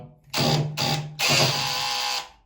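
A power drill drives a screw into ceramic tile in three close, loud whirring bursts: two short spurts, then a longer steady run.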